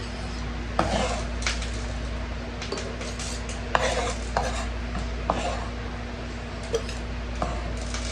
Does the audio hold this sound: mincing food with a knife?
yes